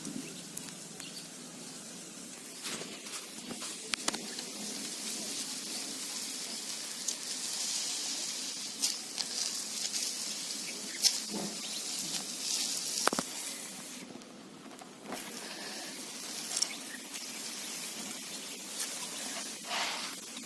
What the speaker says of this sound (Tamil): இந்த அரப்பு போட்டு நல்லா கிழிஞ்சு எடுத்துக்கலாம்